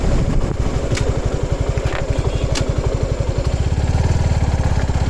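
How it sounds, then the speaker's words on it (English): A 2023 Suzuki Gixxer SF 250 motorcycle engine runs close by with a steady, rapid low thumping pulse that climbs in pace toward the end as it is revved, loud and continuous without talk. "So let me just rev it up."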